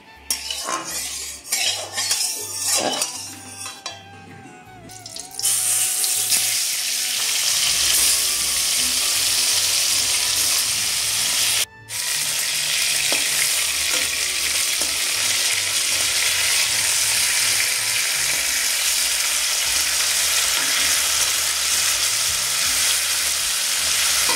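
Bhola fish fry in mustard oil in a wok: clinking utensil taps and handling noises come first, then a loud, steady, close sizzle continues with a brief break.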